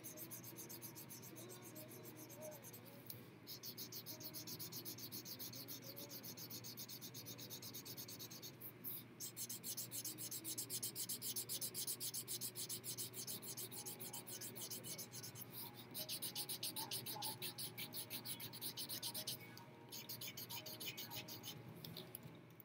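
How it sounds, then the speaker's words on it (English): Marker strokes rub steadily across paper, coloring over drawn lines to join cut-out scissor shapes into one large shape; a continuous close scratchy rasp with brief pauses and changes of stroke, with no one speaking. "you're just going to color right over all of the lines that you have"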